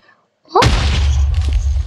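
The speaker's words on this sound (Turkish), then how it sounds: "Pro gibi patlatıyorum her yeri" Minecraft explosion during a dragon battle: a sudden loud boom after near silence, followed by a sustained rumbling roar with debris crackle that stays loud to the end.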